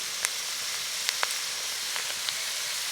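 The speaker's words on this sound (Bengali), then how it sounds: "পেঁয়াজটা ভালোভাবে ভেজে নিয়েছি" Onions frying in a pan make a steady, moderate sizzle with a few sharp pops and spatters scattered through it, heard close with no voices.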